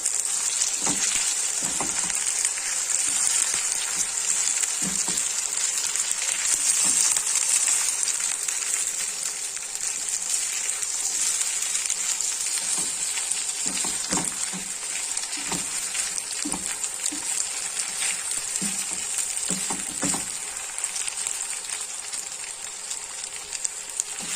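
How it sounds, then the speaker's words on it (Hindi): Chicken pieces frying in oil in a pan for chicken Manchurian, a steady bright sizzle running throughout with scattered soft clinks and taps of a utensil against the pan. "चिकन फ्राई हो रहा है"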